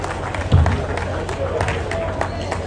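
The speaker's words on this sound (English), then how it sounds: "Please, another big round of applause for him." Audience applause at an anniversary celebration, a dense steady wash of clapping through the whole moment with a few louder bursts, mixed with crowd murmur.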